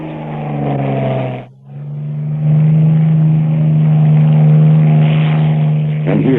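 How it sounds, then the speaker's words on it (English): A Spitfire's Rolls-Royce V12 piston aircraft engine drones steadily with a deep, smooth tone, dipping briefly then returning to a strong, even roar; close and loud. "hear the melodic tenor saxophone sound of its Rolls-Royce V12 engine"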